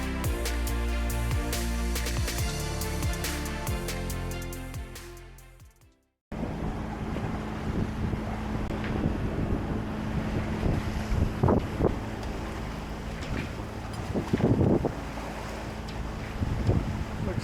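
A Hans Christian 38T, a heavy full-keel blue water cruiser, under way in wind and swell: steady wind rush and water wash with thumps of waves against the hull, after a brief stretch of other sound at the start.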